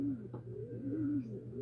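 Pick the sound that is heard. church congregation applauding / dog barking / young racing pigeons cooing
young racing pigeons cooing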